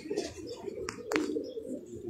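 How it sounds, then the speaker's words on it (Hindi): Pigeons kept for flying on a rooftop in Keamari, Karachi give soft cooing and a couple of short wing or chirp bursts, faint and close, with no talking. "ये कुछ कबूतर हैं इनके"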